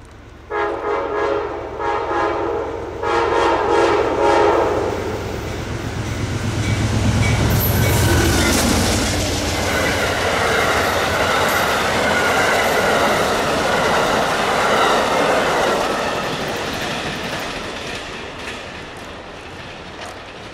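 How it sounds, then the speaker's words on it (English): Amtrak P091 train headed south at Collier, opening with loud horn blasts, then a long rushing roar of passing cars with rail clatter that slowly fades. "Amtrak P091 headed south at Collier"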